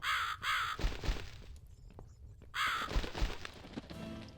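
Crows caw in The Cat Lady video game, two bursts of harsh repeated calls with a pause between them, fairly close and loud over a low ambient background.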